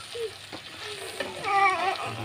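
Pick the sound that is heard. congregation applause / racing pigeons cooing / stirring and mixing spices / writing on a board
stirring and mixing spices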